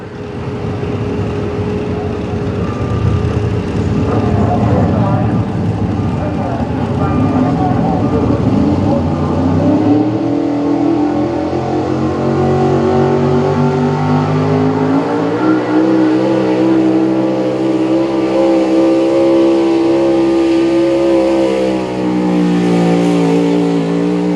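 Tractor engine revving hard during a truck and tractor pull in Harrisonburg, Virginia, a loud sustained roar rising and holding in pitch as the machine pulls, with an announcer talking over it.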